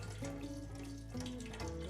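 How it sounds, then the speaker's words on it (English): Water splashes and gurgles as it pours into a metal billy can, a fairly quiet burbling stream that shifts pitch in steps as the can fills. "So we are going to pour some."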